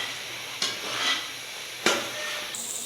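A spoon stirs fried onions into chicken korma in a pot, with two sharp scraping knocks against the metal over a steady background sizzle of frying, close and fairly quiet.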